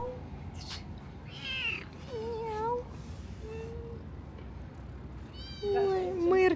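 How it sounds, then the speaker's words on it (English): Several cats roam the grounds of a church in Turkmenbashi, Turkmenistan. A few separate meows, some drawn out and rising, come at intervals, nearby and fairly clear, with a low voice faintly underneath. "there are so many cats just casually wandering around the church grounds"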